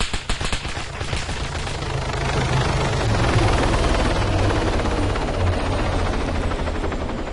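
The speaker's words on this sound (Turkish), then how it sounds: "Helikopter geliyor." Helicopter arriving in the military game Arma 3, a steady rotor thump and turbine whine building loud and close and holding throughout, with no talk over it.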